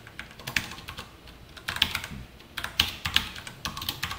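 Python code being typed on a computer keyboard, bursts of quick, light key clicks with short pauses between, close and quiet, with no talking.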